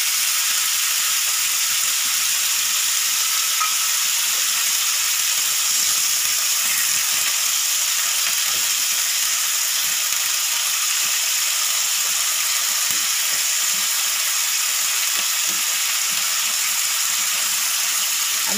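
Ginger garlic paste sizzling and frying in a hot pan while being stirred, a steady bright hiss running continuously with no one talking.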